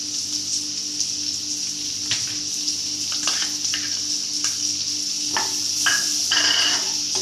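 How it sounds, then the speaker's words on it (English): Chopped onions fry in a pan on a gas stove, with a steady close sizzle and scattered crackles and stirring scrapes running throughout. "in goes our chopped onions"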